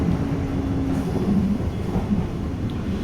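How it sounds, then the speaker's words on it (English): A London Underground Piccadilly line train heading into central London rumbles past in the open, with a steady mechanical roar and some faint tonal whine. "Another train going into central London"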